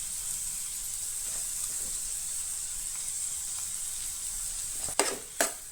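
Tomato and capsicum fry in a pan for street-style masala pav, giving a steady close sizzle, with a couple of sharp stirring scrapes near the end.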